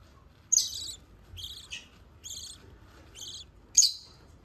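Soft, high chirps from a hand-reared parrot chick about 16 to 20 days old, five short peeping bursts spaced roughly evenly, close by and alone against a faint low room hum.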